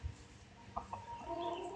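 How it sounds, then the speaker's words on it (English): Farm chickens, including roosters and battery hens, cluck close by. A couple of short clucks are followed by a longer, drawn-out call. "We do have 9 roosters, and that's why we introduced these 12 battery hens."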